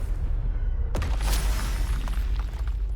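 A Confringo spell explodes in Hogwarts Legacy: a sharp blast at about one second gives way to a bright crackling burst and rumbling debris over a low, steady game background.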